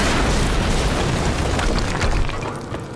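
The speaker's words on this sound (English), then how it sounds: "HQ, we just heard an explosion near the harvesting perimeter." A loud, booming explosion in the Quantum Break video game, a sustained roaring blast with crackling debris that fades out toward the end, with no talk over it.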